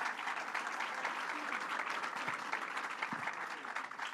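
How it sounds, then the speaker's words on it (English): A rally crowd on Long Island gathered over paid family leave claps steadily in a round of applause, even and continuous but heard at a distance and fairly quiet. "Give him a round of applause."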